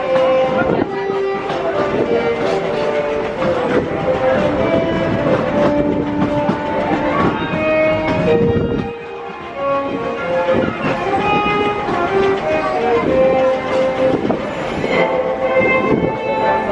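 The Disneyland Paris Railroad train rolls along its tracks with loud rumbling, clicking wheels and squealing tones, while a recorded safety announcement plays over the noise.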